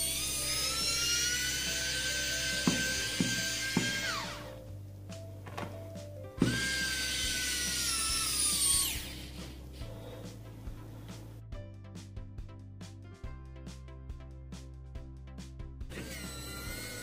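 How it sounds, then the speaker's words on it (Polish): Xiaomi and Niteo electric precision screwdrivers alternately unscrew and drive a screw in electronic equipment, a steady high motor whine that stops and restarts, each run ending in small clicks, close and clear. "Pierwszy test to odkręcanie i zakręcanie śruby w sprzęcie elektronicznym."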